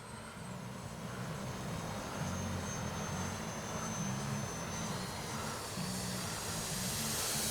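A Freewing F-22 RC jet flies after launch. A steady, airy engine roar and hiss holds throughout at moderate distance, with a thin high whine fading out early.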